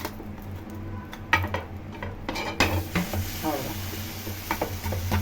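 A homemade pizza is flipped and cooks in a pan, gentle sizzling beneath clattering utensil scrapes and knocks on the cookware, with a voice speaking briefly.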